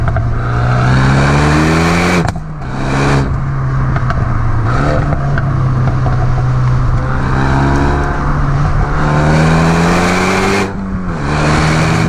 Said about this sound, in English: have a listen to the exhaust on this thing.